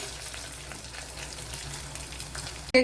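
Gentle frying in a pan for a beetroot and carrot dish, a steady soft sizzle that holds through the stretch, ending in a brief louder clatter.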